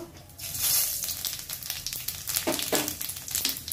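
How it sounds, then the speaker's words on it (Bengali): Cumin seeds crackle in hot oil left from frying potato and brinjal, with a busy sizzle and sharp bursts of spattering and scraping close by, and no voices. "ভাজার পরে আমি জিরে ফোড়ন দিয়ে দেব"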